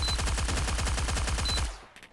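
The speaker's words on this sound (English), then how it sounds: "was just firing multiple shots and not able to get any on them" Rapid automatic gunfire from the video game Forward Assault, a steady burst of evenly spaced shots lasting under two seconds before cutting off abruptly, loud and close with no talking.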